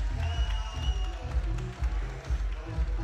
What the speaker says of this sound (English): There's the final bell, and terrific reception from the crowd.